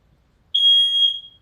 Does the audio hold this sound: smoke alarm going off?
yes